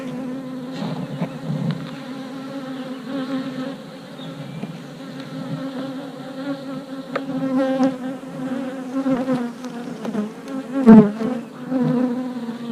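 Honey bees swarm around an open beehive with a steady, dense buzzing drone, close and continuous, swelling and thinning as individual bees pass near, with no talking.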